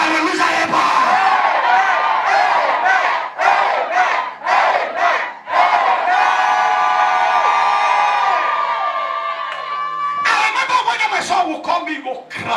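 A church congregation shouts and cheers in loud bursts, a dense crowd roar that rises and breaks off repeatedly, with a preacher's voice mixed in among the shouting.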